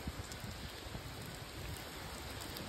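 Heavy rain pours down outdoors by the water during a carp fishing trip, making a dense, steady hiss of drops with no talk, fairly quiet throughout.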